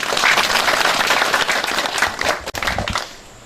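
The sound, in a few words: applause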